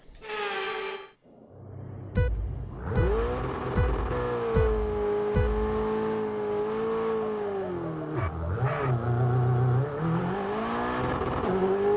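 A race car engine in the F1 22 video game roars through a sustained high rev on an Austrian autocross run, pitch dipping and climbing with gear changes, loud and close after a brief opening tone.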